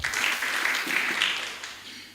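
A crowd at a ward MCA candidates' debate claps steadily for a candidate being introduced, a thick wash of applause that gradually thins toward the end.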